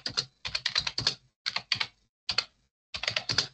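Fingers type a prompt on a computer keyboard in quick bursts of crisp, close clicks separated by short pauses, with no other sound.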